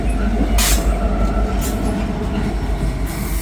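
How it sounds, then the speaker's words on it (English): A freight train with a distributed power locomotive rolls past close by, a loud, steady rumble with bursts of wheel squeal and rail clatter throughout. "Wow, another DPU coming through."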